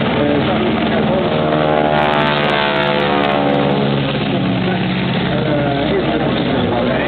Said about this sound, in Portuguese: vamos começar com um voo de um avião chamado Boeing Sherman. É um avião biplano.